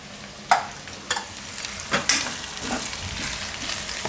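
Ground coriander-cumin, turmeric and red chili stirred and frying in a hot pan, with a soft continuous sizzle broken by several sharp scrapes of the spoon against the pan.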